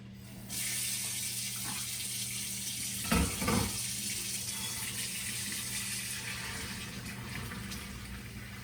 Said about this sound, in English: I'm going to run the cold water on the bottom of the sink